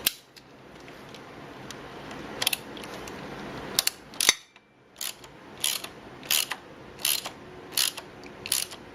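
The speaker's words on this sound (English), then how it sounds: "I bet you it's just going to go in fine with the wrench" A wrench turning a threaded output flange on an airhead motorcycle during a thread repair, giving repeated sharp ratcheting clicks in short bursts with quiet gaps between them, close and fairly soft.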